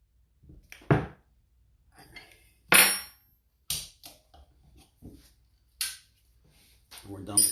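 Tightening a bicycle top nut with a 17 mm wrench during freehub and disc bearing maintenance: sharp metallic clinks and taps spaced irregularly, close by with quiet gaps between.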